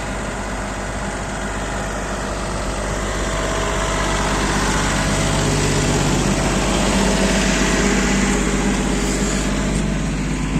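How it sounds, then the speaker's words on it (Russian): A Yanmar YB20 mini excavator runs with its small diesel engine, giving a loud, steady, close drone with a throbbing low hum that rises slightly as the machine works. "Экскаватор поднял свой вес."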